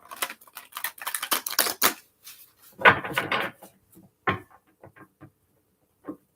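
Tarot cards are shuffled by hand during a live reading, a series of crisp riffling flutters and papery snaps in bursts of varying length, close and fairly loud, with quiet gaps between them and no talk.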